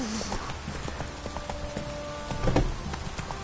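Horse hooves in Witcher 3 clip-clopping in a steady walking rhythm over ambient game noise, with a heavier thud near the end.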